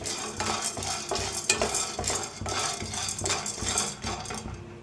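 Peanuts and roasted gram dal dry-roasting together in a pan, stirred continuously so the hard grains rattle and scrape against the metal in a busy, fairly loud, unbroken texture with no speech.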